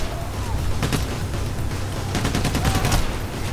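Rapid bursts of gunfire from the heist shooter Payday: The Heist, repeated sharp shots in quick clusters over a rumbling background, loud and close.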